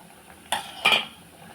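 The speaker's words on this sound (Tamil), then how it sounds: "இப்போ நம்ம கழுவி வச்சுருக்க கருவாடை சேர்த்துடலாம்" Two brief, wet clattering splashes as washed dried fish drops into a pot of simmering curry, with quiet kitchen background between them.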